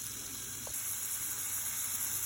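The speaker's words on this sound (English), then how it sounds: "Now I'm just frying up my green peppers and onions." Green peppers and onions fry in a little oil in a pan, giving a soft, steady sizzling hiss that runs continuously and stays faint and even.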